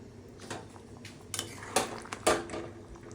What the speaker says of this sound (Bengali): এখন ঢেলে নিচ্ছি একটা পাত্রে